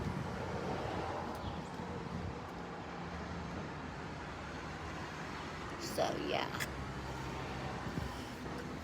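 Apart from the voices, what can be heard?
road traffic noise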